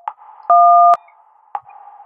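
A telephone busy signal inside a maze video game follows a dialed code: short electronic beeps and a loud sustained two-tone tone, then another brief beep, clear and close with no talking.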